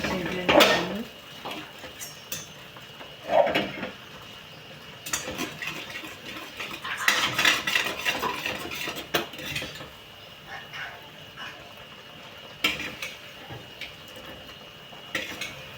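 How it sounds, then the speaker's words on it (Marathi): Spoon stirring cooked rice in a pot for rice kheer, scraping and clinking against the metal at irregular moments with soft quiet gaps between, close and fairly quiet throughout. "मिक्स करत आहे. सारखं चमच्याने"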